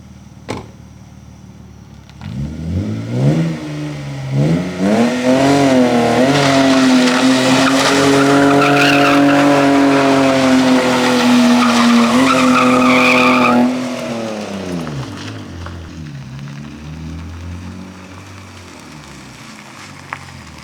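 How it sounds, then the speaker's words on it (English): A BMW E36 wagon with a newly swapped limited-slip differential spins donuts outdoors, its engine revving and holding a rising, droning note while the tires howl in a long continuous skid before the revs drop and the squeal fades away. "it's time to go outside and see how it does when we try to do some donuts"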